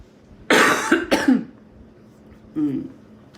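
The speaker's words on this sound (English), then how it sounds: "Weed cough." A couple of sharp coughs close to the microphone, followed after a pause by a shorter throaty cough.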